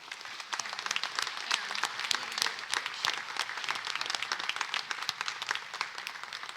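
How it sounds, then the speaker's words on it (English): A round of applause at the Terrific Ten 2021 ceremony in a high school gym, a lively patter of many individual claps, crisp and somewhat distant, continuing steadily for several seconds. "let's give these folks one more round of applause"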